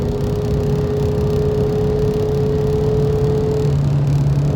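A Fiat Marea 1.6 16V car drives at speed, its engine a steady droning hum with a constant tone that shifts slightly near the end, heard close from inside the car without talk.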